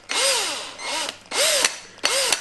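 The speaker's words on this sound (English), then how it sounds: "So we'll get the drill in here" A small drill bores into the plastic body of a Bachmann Class 08 model locomotive in three short bursts, each whining up and winding down at close range, with no talk.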